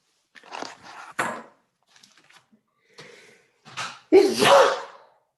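Several short breathy bursts end in a loud, sharp sneeze over an online meeting call, with quiet gaps between them and no talking.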